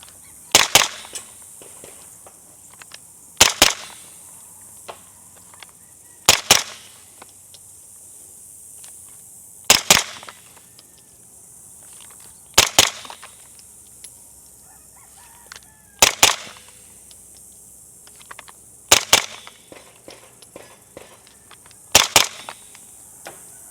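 Suppressed Scorpion firearm fires single shots outdoors, eight sharp cracks each with a brief echo, spaced about three seconds apart, loud against quiet background.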